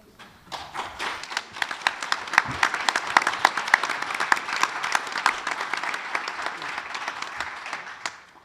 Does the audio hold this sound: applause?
yes